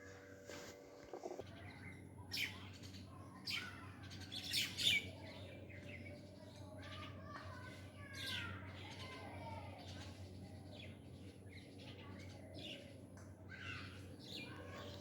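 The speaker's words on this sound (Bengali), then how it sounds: "পাখির কিচিরমিচির কলতান শব্দ কার না ভালো লাগে" Birds chirp and squawk in short scattered bursts, a parent bird feeding its chick, fairly faint and somewhat distant over a low steady background hum, with a few brief calls clustering early on.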